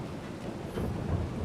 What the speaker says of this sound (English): Thunderstorm coming, as you can hear.